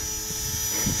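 A steady whirring rotor hum of a small RC helicopter flying in the rain, close and continuous with no speech.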